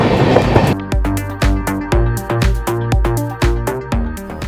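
A passenger train runs on rails in Jharkhand on its way toward Ranchi Road station, its wheels striking rail joints in loud, regular clacks, each followed by a fading ring, close by and with no talk.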